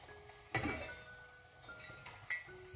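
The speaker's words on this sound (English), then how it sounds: "So, I will get myself a wee spoon here" In a kitchen, a small spoon clinks against a pot of vegetable stock for gammon and leek tagliatelle. A few light, quiet metallic taps come at uneven intervals, with no talking.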